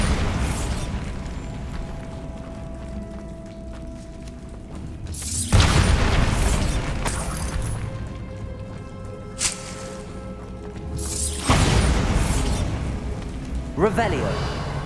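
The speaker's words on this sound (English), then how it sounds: "Bombarda!" Bombarda explosion spells go off in Hogwarts Legacy combat, several loud booms and blasts spaced several seconds apart over ongoing battle noise, with a voice calling out among them.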